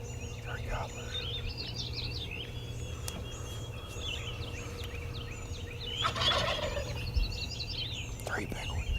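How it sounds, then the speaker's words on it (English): Three wild turkey gobblers gobble outdoors in repeated rattling bursts, moderately close with some calls overlapping, over a low background rumble; a person speaks quietly at one point. "Yeah, there's three. Three gobblers."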